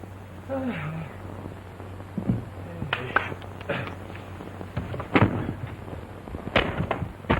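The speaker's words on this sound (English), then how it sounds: "you heard some shooting down there, Merritt." Gunshots from a 1933 comedy film, several sharp reports scattered over old, hissy soundtrack noise with a low hum, while voices talk at times.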